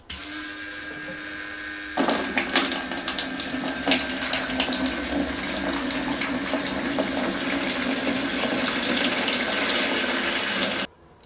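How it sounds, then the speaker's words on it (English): A liquid transfer pump sucks water out of a toilet bowl during a wax ring replacement, switching on with a loud, steady whirring rush that runs for several seconds and then cuts off abruptly. "if you have a liquid transfer pump or liquid extractor, you can go ahead and suck the water out into another container"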